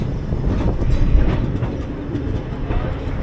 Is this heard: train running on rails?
yes